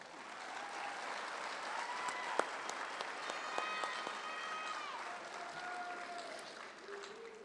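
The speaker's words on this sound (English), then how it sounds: "Please give a large round of applause to our CAP and CVA instructor staff." Sustained crowd applause for the CAP and CVA instructor staff at a 2025 graduation ceremony, a steady dense roar of many hands with a few whistles and whoops rising above it.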